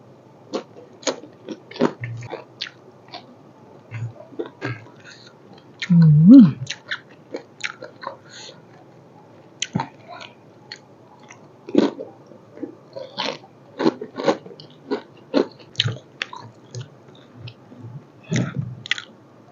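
Someone chews while eating Thai young chili dip (nam prik num) and leftover sour curry (kaeng som), with a steady run of close, moist bites and crunches and one brief low burst partway through.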